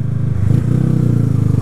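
A Honda CG Fan motorcycle engine runs hot at a fast, raised idle, a steady close-up rapid putter with an even pulsing beat, its carburetor leaking fuel.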